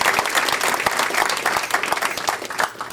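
A high school audience applauds at a 2003 football signing day event, a steady burst of clapping that holds for a few seconds with crowd presence.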